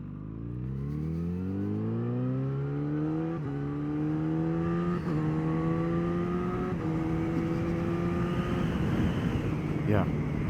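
An FZ1 motorcycle engine revs up through several gear shifts while riding, pitch climbing and dropping repeatedly as the bike accelerates, loud and steady throughout.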